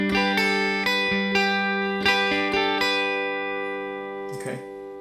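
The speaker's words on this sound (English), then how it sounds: "Okay, and again with a plectrum that'll sound like this." An acoustic guitar strums the chorus of Here Comes The Sun with a plectrum, playing bright chords in an even rhythm with ringing sustain. It sounds clear and close, and the last chord fades out.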